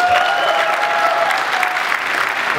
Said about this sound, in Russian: эта победа достойная аплодисментов